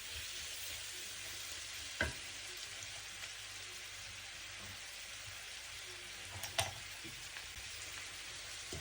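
Green chillies sautéing in a pan, a continuous hissing sizzle like light rain, with a couple of sharp clacks from the stirring utensil, close and steady, no speech.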